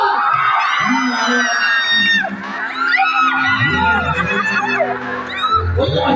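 Audience at a live comedy show cheering, whooping and shouting in loud bursts, with children's shrieks and crowd babble rising and falling over amplified voices and music.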